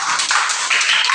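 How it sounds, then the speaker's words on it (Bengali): A group of children clapping for Bonna's birthday, a short burst of quick, bright handclaps overlapping in a steady patter, fairly loud and close. "এবারে সব বন্যার জন্য সবাই একটা হাততালি দাও"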